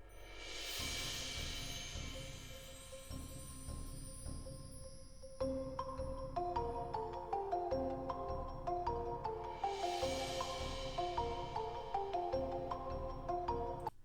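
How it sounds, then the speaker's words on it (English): Shimmering cymbal swells open and recur, while bright bar chimes ring out a tuned pattern over a steady pulsing low bass drum beat in fantasy orchestral music. "couple of cymbals and bar chimes."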